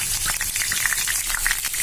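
Onions and green chilies frying in oil in a pan give off a loud, dense, continuous sizzle, broken by small stirring knocks and pops.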